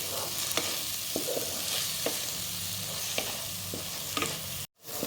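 Spice masala stir-fried on low heat in a pan for a chicken kosha curry: a steady soft sizzle with periodic scraping strokes of a spatula, close and continuous, cut by a brief silence near the end.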